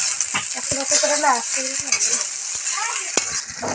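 Spices with turmeric being stirred in a hot frying pan, a steady sizzle with close, repeated scraping and clinking of a utensil against the pan.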